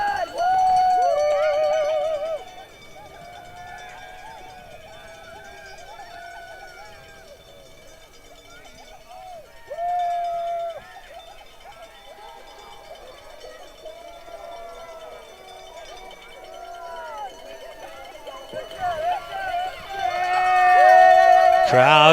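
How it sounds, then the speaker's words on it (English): Spectators cheer along a high-altitude ski mountaineering course at an ISMF World Cup mixed relay in Solitude, a steady distant roar that swells loudly at the start and again toward the end. "Crowd getting into it big time."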